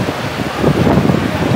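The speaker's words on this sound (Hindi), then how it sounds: "बारिश अभी भी जारी है," Heavy, steady rain falls at Masjid al-Haram in Makkah, a loud, dense wash of noise that stays constant throughout with no clear voices.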